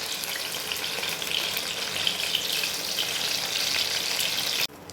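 Kachki fish and bottle gourd leaf fritters frying in hot oil, a steady dense sizzle and crackle that holds throughout, then cuts off abruptly near the end.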